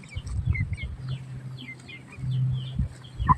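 Chickens cluck softly nearby, with low murmuring calls and a few brighter chirps scattered through the clip in a quiet outdoor yard.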